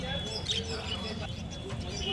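Chirps and soft cooing of caged birds mingle with a busy market murmur and people talking nearby at the Garia bird market.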